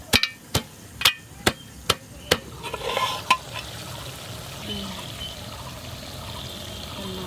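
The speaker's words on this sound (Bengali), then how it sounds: "এই গোড়ার দিকগুলো দেবো একটু থেতো করে শিলে" Lemongrass stems are pounded on a stone grinding slab (shil), giving about eight sharp, evenly spaced thuds close up, followed by quieter scraping and rustling as the crushing eases off.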